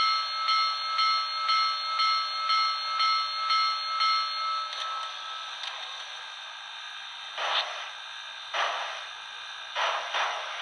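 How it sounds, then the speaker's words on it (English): A brass HO scale PRR Q2 model locomotive with a Soundtraxx decoder rings its bell in a steady, even series of bright strokes for several seconds. After the bell stops, a few scattered clanks and scrapes follow. "and the bell sounds good."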